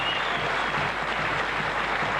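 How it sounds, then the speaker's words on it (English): A dinner-hall crowd at a rugby league function gives sustained, steady applause for the backroom staff, a dense wash of many hands clapping throughout. "give them a great round of applause."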